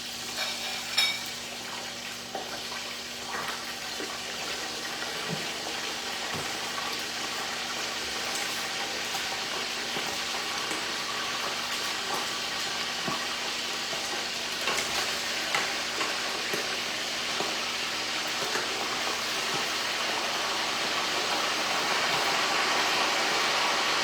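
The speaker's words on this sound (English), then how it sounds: "I'm going to be frying my turkey in here." Turkey pieces fry in hot oil with a steady, dense sizzle and crackle that runs continuously, with occasional pops, building slightly louder toward the end, with no talking.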